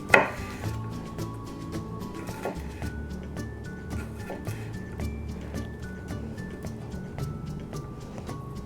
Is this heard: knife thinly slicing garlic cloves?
yes